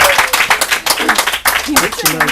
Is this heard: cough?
no